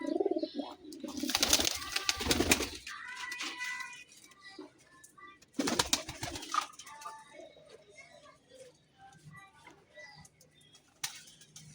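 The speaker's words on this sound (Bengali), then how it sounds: "আমার কবুতরগুলো আজকেও বৃষ্টিতে গোসল করছে।" Pigeons bathing in the rain coo softly and at intervals, broken by bursts of splashing and wing flapping near the start and again midway.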